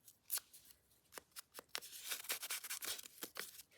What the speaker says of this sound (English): Tear this a little.